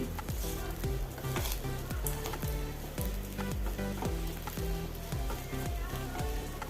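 Sago upma (sabudana khichdi) frying and being stirred in a pan, with a steady loud sizzle and repeated scraping strokes of a spoon throughout, no voices.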